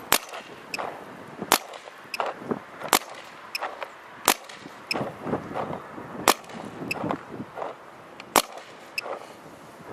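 Sharp, loud shots ring out from a Dye DAM (Assault Matrix) paintball marker firing paint balls through a chronograph, about seven distinct pops spaced irregularly across ten seconds, with faint handling noise between them.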